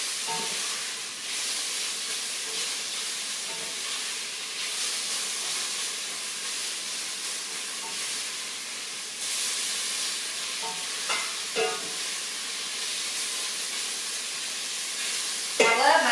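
Meat browning in a pot for homemade vegetable soup, a steady broad sizzle and hiss with occasional stirring scrapes throughout.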